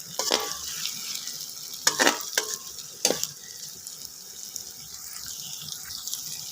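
Mixed vegetable pulao rice being stirred and fried in a pot, with a few sharp scraping stir strokes over a steady, faint sizzle and no talk.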